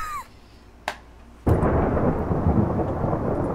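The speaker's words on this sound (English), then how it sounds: "Ooh, thunder." In-game thunder: a faint crack, then a sudden loud boom that rolls into a long, dense rumble resembling heavy rain.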